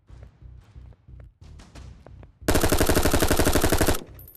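Video game weapon fire: several short bursts of thudding shots, then a sustained loud rapid automatic volley lasting over a second before it cuts off.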